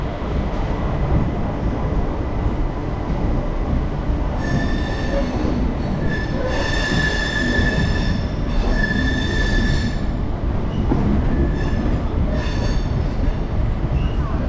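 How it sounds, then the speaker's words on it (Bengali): Local passenger train pulling out of Kharagpur station, with a dense steady roar of wheels on rails and recurring high metallic squeals of wheels grinding through curves, loud and close throughout. "এই মুহূর্তে ঘড়িতে ঠিক 11:02 খড়গপুর থেকে আমাদের ট্রেন ছেড়ে দিল।"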